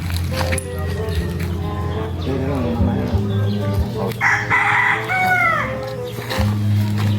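A rooster crows with rising, drawn-out calls midway, amid farmyard clucking and people talking nearby over a steady low hum.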